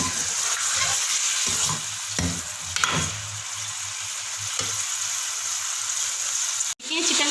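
Chicken pieces fry in a pan over a high flame for a chicken korma, a loud continuous close sizzle with stirring scrapes and clatters, ending in a brief sharp knock.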